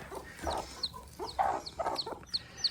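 Chickens cluck in a garden coop where fall chickens are kept for warmth and safety, with a string of short, close clucks and squawks coming in irregular bursts and no talking.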